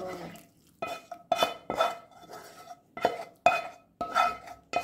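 Seafood and noodles stirred in a metal pan, a run of loud clanking scrapes and clinks from the utensil against the pan, repeated at a quick, uneven rhythm.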